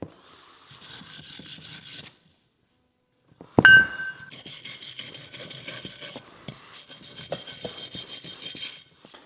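Wire brush scrubbing metal car parts during a rebuild, heard as bursts of harsh, rasping strokes broken by short pauses and a sharp clank, close and loud with no talk.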